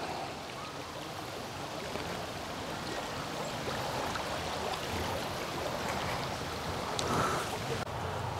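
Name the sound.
creek flowing under a covered bridge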